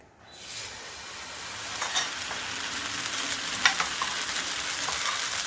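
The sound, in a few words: oats and semolina uttapam batter cooking on a hot pan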